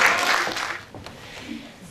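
Audience applause in a concert hall at a 1935 community cultural centre's 80th anniversary concert, a broad steady patter of many clapping hands that is loudest at the start and then thins and softens.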